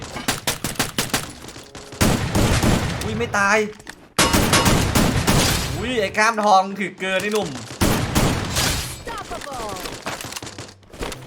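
Rapid bursts of gunfire in the video game Free Fire crack repeatedly, with someone talking excitedly over the shooting.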